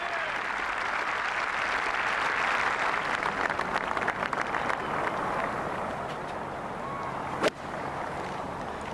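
Large golf gallery applauding and cheering at the 14th hole of Royal St George's during the 2003 Open Championship, a sustained broad wash of clapping and roaring crowd noise with a brief sharp bump near the end.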